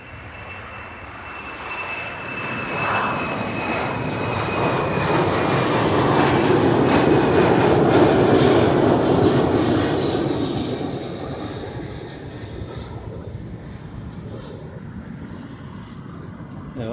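A passing airplane at Amsterdam Schiphol Airport, a steady jet roar that swells to a peak around the middle and then slowly fades, loud and without any talk.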